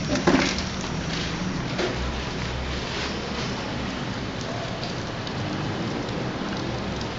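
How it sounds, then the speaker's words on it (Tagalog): Steady rain falling outside a hospital, a dense continuous hiss of drops with a faint low rumble beneath, close and even throughout. "umuulan"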